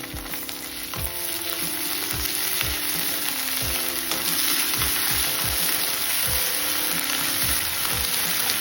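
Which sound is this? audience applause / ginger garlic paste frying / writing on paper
ginger garlic paste frying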